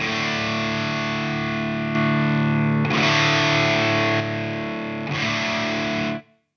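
Electric guitar driven through an overdrive pedal, MOOER Hustle Drive or Fulltone OCD, with its filter switched from high pass to low pass, playing sustained distorted chords in several loud strummed bursts with brief dips between, ringing out before stopping.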